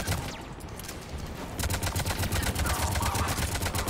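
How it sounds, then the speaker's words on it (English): Assault rifle fire in Mass Effect 3, sporadic at first, then a steady rapid burst of sharp automatic shots for the last couple of seconds, loud and close. "I wish the assault rifle didn't suck."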